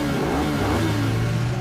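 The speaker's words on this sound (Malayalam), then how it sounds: "എടാ സൂപ്പർ സ്പീഡോ, നിന്നെ തോൽപ്പിക്കാൻ എന്റെ ഈ സൂപ്പർ ബൈക്ക് മാത്രം മതി. അത് ഓട്ടോ മോഡിൽ ഓടിക്കൊണ്ട് തന്നെ നിന്നെ അറ്റാക്ക് ചെയ്യും." A cartoon super bike's engine revs steadily and loudly, a continuous mechanical roar with a low rumbling drone, with no voices over it.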